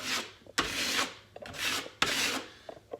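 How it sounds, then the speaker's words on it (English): Spackle is scraped over a nail hole in a bedroom wall in close, rasping strokes, each starting with a sharp tap and sweeping on, in an even back-and-forth rhythm with no talking. "Now what we're going to do is spackle."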